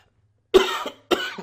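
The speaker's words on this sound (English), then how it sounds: "I feel a cough coming on, excuse me." Two distinct coughs, close and clear, separated by a short pause, in an otherwise quiet setting.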